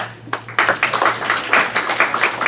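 Scattered clapping from a small group at a Danbury Republican Town Committee nomination meeting, starting after a brief pause and continuing as uneven, moderately loud claps over a steady low hum.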